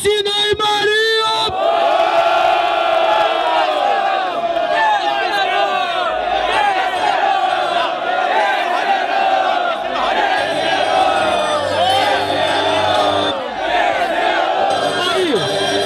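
Shouting and cheering from a crowd swell at a rap battle final in São Gonçalo. The loud, continuous roar carries throughout with raised voices and whoops mixed in.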